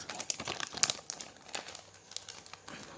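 Adhesive tape is peeled and crinkled off the back of a Marvel Avengers PS4 game box, a series of close, quiet crackling rips and rustles in irregular bursts.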